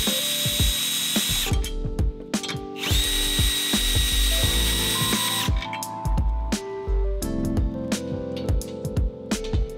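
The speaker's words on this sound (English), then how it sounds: "And now I'm going to remove 2 14mm bolts." A ratchet works 14mm bolts loose from the cradle of a Subaru Crosstrek during a lift kit install, giving repeated close clicking bursts with metallic clanks and tool knocks between strokes, loud and with no talk over it.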